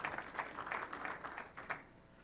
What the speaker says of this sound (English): Appreciate the slow clap.